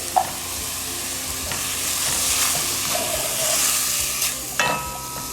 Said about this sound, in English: Now you want to let this cook for about a proper 1-2 minutes, just until the mushrooms are properly cooked.